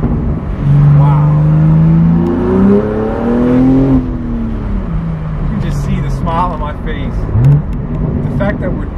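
A manual BMW M4 G82 engine with a full titanium exhaust revs hard and climbs under heavy throttle, its deep exhaust note rising and falling, with voices talking over the roar.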